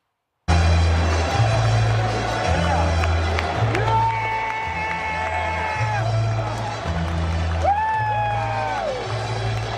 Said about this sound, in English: Whole crowd shouting USA, USA.